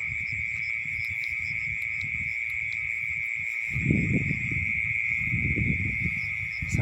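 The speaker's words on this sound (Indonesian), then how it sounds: "Sini juga terdengar suara kodok atau apa ya." A dense chorus of night creatures trills steadily in the background, with low croaking calls of frogs rising and falling in bursts throughout.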